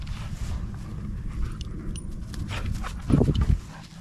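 A dog worrying at something on a mountain trip with a camper van. Quiet scuffling builds to a short, louder burst of thumping and growly noise near the end.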